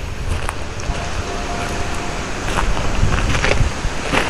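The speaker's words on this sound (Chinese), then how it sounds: "然后今天风有一点大，所以说风声应该会比较强" Strong wind gusts roar steadily across an abandoned rural village at night, a broad continuous rush with occasional louder buffets on the microphone, with no talking.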